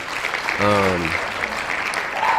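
Steady crowd applause fills the clip, with a brief voice rising over it near the start.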